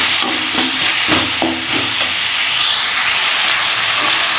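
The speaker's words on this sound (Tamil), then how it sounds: "இது அப்படியே எண்ணெயிலேயே ஒரு ரெண்டு நிமிஷம் வேக விட்டுடலாம்" Turmeric frying in hot oil for mutton gravy, a continuous loud hiss and sizzle with a few soft stirring knocks early on.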